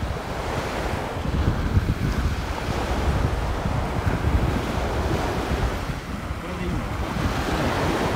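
Ocean surf rolls in steadily at a seaside campsite on an outdoor motorbike trip, a continuous loud wash of waves mixed with gusty wind noise on the microphone and no clear breaks.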